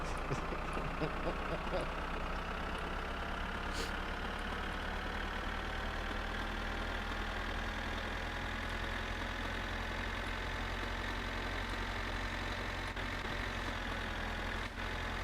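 A tractor engine idles steadily in My Summer Car, a low continuous drone with mechanical harmonics holding even and close throughout, with faint background noise.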